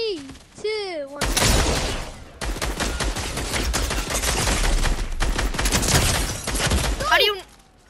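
Rapid bursts of video game gunfire in a lucky block duel, an assault rifle shooting continuously for several seconds with sharp cracks, loud and close, with voices briefly heard before and after.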